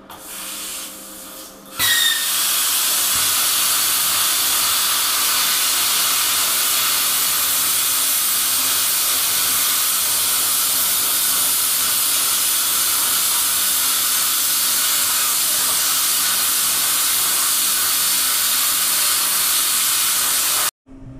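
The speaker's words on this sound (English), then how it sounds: "The auger is equipped with hardened paddles that rotate throughout the interior of the bucket to ensure thorough mixing" A skid steer cement mixing bucket with a paddle auger runs steadily, giving a loud, continuous broadband hiss and roar that holds for about twenty seconds after a short quieter start.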